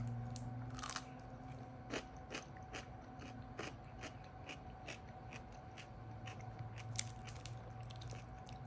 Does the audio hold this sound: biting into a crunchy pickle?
yes